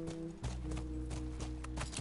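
Horse hooves clip-clop at a steady riding pace in the video game The Last of Us, a continuous rhythmic beat over a low game ambience, fairly quiet overall.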